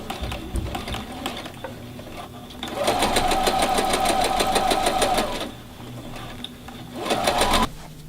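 Sewing machine stitching strips of fabric for half-apron ties, running in two bursts: a long steady whirring stretch of rapid rhythmic needle clatter, then a shorter run after a pause, close and clear with no talk.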